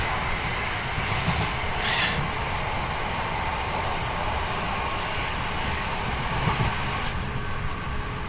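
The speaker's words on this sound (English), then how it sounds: "Let's just enjoy the thrash this train has to offer." A Class 465 electric passenger train speeding up between London Waterloo East and Lewisham rumbles steadily with a loud, broad roar of motors and rails, continuous and close, with no voices.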